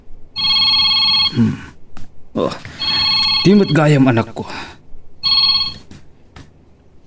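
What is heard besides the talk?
cellphone ringing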